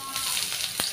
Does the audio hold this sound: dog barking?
no